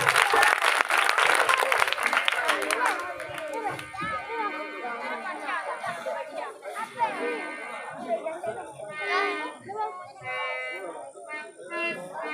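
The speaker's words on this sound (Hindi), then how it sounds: "वाह, जोरदार तालियां।" Audience at a Ramlila stage performance of the Ashwamedha yajna episode applauding loudly at first, then fading into crowd chatter with music and voices carrying on from the stage.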